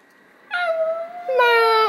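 A voice imitates a dog, giving two drawn-out whimpering howls, the second higher and louder, close and clear.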